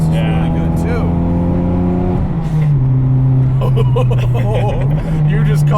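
A 1995 Toyota Celica GT-Four engine pulls hard with a loud, steady droning tone that climbs and holds, heard close from inside the car while people talk over it.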